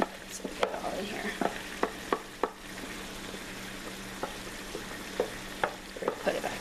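Chicken fajita meat, vegetables and green onions sizzle in a pan while being stirred, with a steady frying hiss broken by repeated sharp scrapes and clacks of the utensil.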